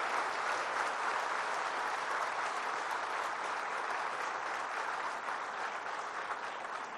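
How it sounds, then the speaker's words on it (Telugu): An audience at a government event applauds newly recruited assistant executive engineers receiving appointment letters, a loud, sustained burst of dense clapping across the whole stretch. "మీరు పెద్ద ఎత్తున వారిని చప్పట్లతో అభినందించండి"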